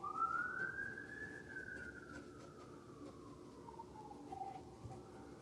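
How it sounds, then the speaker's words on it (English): A single faint siren wail rises, then slowly falls, drifting in from far away over a soft background hum. "Now you can also hear the sirens behind me."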